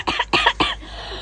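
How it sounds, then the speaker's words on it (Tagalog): A person coughs three times in quick succession, close and fairly loud, each cough short and harsh, followed by quiet. "Ay, ubo ako na ubo."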